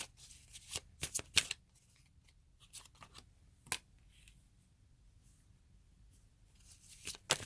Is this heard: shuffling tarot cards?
yes